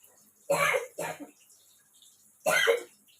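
Someone coughing in a home kitchen while cooking, two quick harsh bursts followed by a third after a pause, close and fairly loud against a quiet background.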